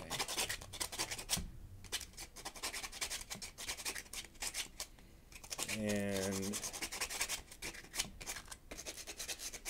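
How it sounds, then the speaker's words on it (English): Hand sanding along the edges of a wooden drawer in a workshop gives rapid, rhythmic rasping strokes, close and continuous, with a brief whirring pass midway and a short spoken word. "sanding down these things is not that important in terms of the functionality, but I do like what sanded edges look like"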